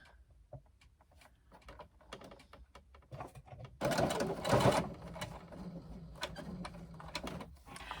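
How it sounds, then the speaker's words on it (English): A sewing machine drives a non-leather needle through leather on a hobo shoulder bag, giving sparse mechanical clicks and thumps, then a louder, labored burst of stitching before lighter clicking returns. "Ignore the noise, I'm working through leather with a non-leather needle"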